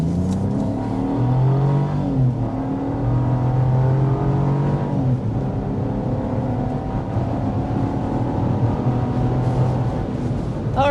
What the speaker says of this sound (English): That was a full throttle acceleration